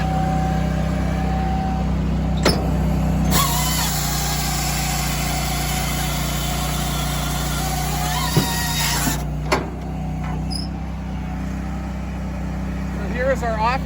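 A Japa 365 Pro firewood processor runs with a steady engine drone while cutting the off cut from a log, with a louder broadband section midway as the saw works through the wood and a person talking over the machine.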